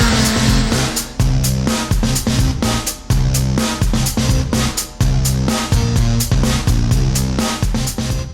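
Suzuki Hayabusa motorcycles on new Bridgestone tyres are ridden hard around an airfield, the engine roaring loud and close with rising revs broken by repeated sharp gear-change dips.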